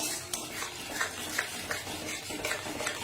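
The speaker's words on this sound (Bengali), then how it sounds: "মশলাটা খুব ভালো করে কষাবো" Spice masala being stir-fried in a pan for aloo dum, a steady low sizzle with soft scraping and stirring strokes of a spoon, continuous and close, no voices.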